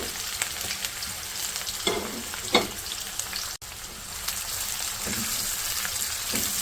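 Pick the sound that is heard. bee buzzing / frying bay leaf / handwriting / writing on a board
frying bay leaf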